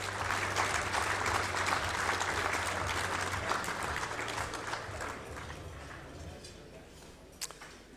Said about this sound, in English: Warm round of applause, please, for a doyen of coaching this competition, Andy Collins